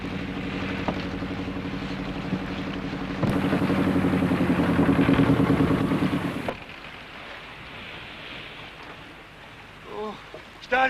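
A fishing boat engine runs as a steady drone, then abruptly grows louder and rougher as it picks up again for a few seconds before dropping back to quieter background noise.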